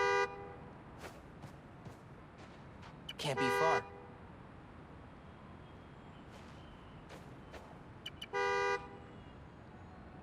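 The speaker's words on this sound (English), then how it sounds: "Find the horn, find the car." A car horn honks in short blasts within the Spider-Man: Miles Morales video game, two loud bursts over a low city hum, with someone speaking briefly between them.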